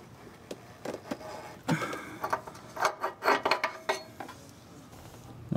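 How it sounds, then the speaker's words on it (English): Metallic clinks, scrapes and ratcheting of an O2 sensor wrench giving final torque to an oxygen sensor on a Volvo 850, in irregular close clusters of sharp knocks with no talk. "final torque using your O2 sensor wrench"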